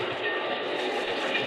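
A train pulling out of a station as a radio drama effect, a steady, full rumble of rolling railcars with a faint rhythmic clatter, sustained and fairly close, with no voices over it.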